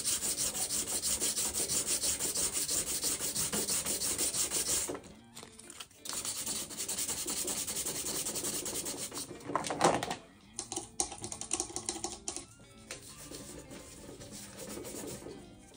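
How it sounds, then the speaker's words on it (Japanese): Hand filing on an acrylic hamster cage (Glass Harmony model), roughening the plastic before bonding: steady close rasping strokes run continuously, pause briefly, then resume in a busier, more irregular scraping pattern. "やすりをかけたいと思います。 アクリルの接着を良くするためにも、やすっておいた方がいいと思います。"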